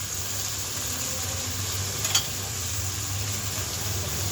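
Green chilies and spring onion stalks sizzling in a hot pan for fried rice: a steady, even hiss of frying with a brief clink partway through.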